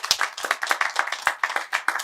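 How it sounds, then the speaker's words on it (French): A small group claps in quick, uneven bursts, individual hand claps clearly separated rather than merging into a roar, close and crisp for about two seconds. "On applaudit très très fort."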